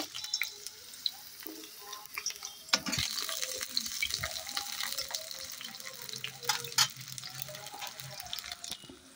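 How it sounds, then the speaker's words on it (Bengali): Pumpkin pieces fry in hot oil for a mixed winter vegetable curry, with a busy crackling sizzle, scattered pops and occasional clinks of stirring throughout. "আমি তেলের মধ্যে প্রথমে কুমড়োগুলো দিয়ে দেব, দিয়ে ভেজে তুলে নেব"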